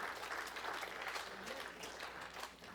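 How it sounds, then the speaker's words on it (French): A church congregation applauds at a marriage sermon, a dense, steady wash of many hands clapping at a distance, with a voice faintly heard through it. "Let us clap our hands."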